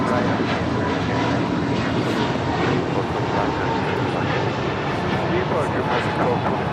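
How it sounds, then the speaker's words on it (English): An American Airlines Airbus A321neo takes off from runway 25 right at LAX, its engines giving a loud, steady, broadband roar throughout, with people speaking over it. "1225 taking off to Philly on an A321neo"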